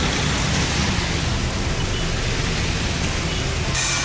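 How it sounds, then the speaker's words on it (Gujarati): Rain falls steadily outside in a Gujarati village, a dense constant hiss of drops that stays loud and even throughout. "બહાર વરસાદ ચાલુ જ છે"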